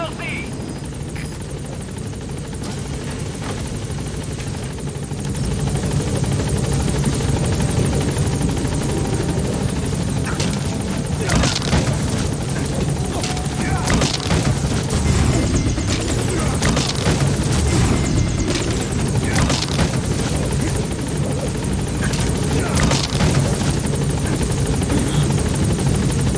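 The B-Quad support helicopter in Metal Gear Solid V arrives at a landing zone, its rotor roar loud and steady throughout and building after the opening seconds, with radio chatter over it.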